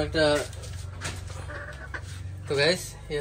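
Chickens and a rooster clucking close by on a small farm, with a loud burst at the start and another near the end, and softer clucks and farmyard noise in between.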